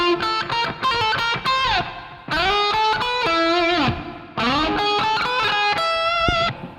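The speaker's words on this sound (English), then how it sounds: "So now we got some reverb." Distorted electric guitar through a Line 6 Pod Go plays chords and bending notes in three phrases, each ringing out with a washy reverb tail.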